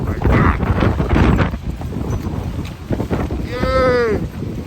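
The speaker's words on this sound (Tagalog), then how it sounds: "Naririnig ko yung hangin." Strong, cold wind with snow roars and buffets the microphone in heavy gusts, with a voice briefly calling out near the end.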